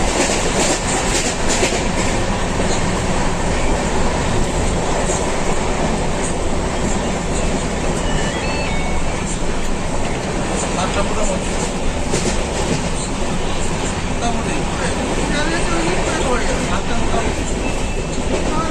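Inside a passenger train running from Howrah to Delhi, a steady loud rumble with clattering wheels and rattling carriage noise throughout, and voices faintly in the background.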